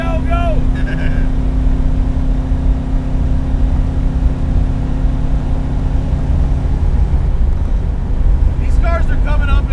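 Modified 1966 Alfa Romeo Giulia GT at full throttle, engine drone held steady and close, pitch climbing slightly, with a voice talking over it near the start and end.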